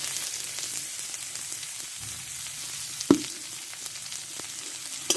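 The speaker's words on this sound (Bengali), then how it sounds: "পেঁয়াজটা ভালো করে ভেজে নেবো" Onion fries in oil with a bay leaf under a gentle, steady sizzle, close by. One distinct spatula scrape or clank cuts through midway. No one speaks.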